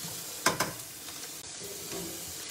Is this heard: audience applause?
no